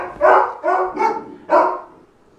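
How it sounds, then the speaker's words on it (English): Dogs barking upstairs indoors, four quick yapping barks in a short burst, moderately near and clear with no talk over them. "They're upstairs barking."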